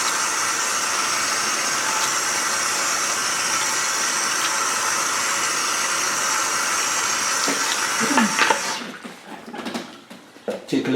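Running water rinses bleach out of hair, a steady broad wash that holds for about eight seconds, then breaks into irregular splashes and drips as the flow stops.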